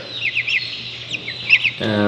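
Young meat chickens, just over two weeks old, chirping in short high peeps over a low background hum, with a voice starting at the very end.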